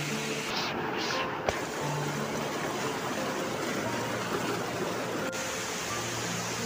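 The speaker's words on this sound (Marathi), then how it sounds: "हा आमच्या गावचा धबधबा आहे" A village waterfall by a river gives a continuous, even roar of falling water, fairly close and unchanging throughout, with no other sounds standing out.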